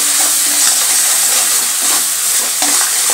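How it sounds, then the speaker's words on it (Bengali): Chilli powder, turmeric and salt sizzle and hiss while being stirred in a pan with a splash of water for a rui fish curry, a loud, continuous frying sound with occasional scrapes and no talking. "এবার ভালোভাবে মশলাটা কষিয়ে নেব।"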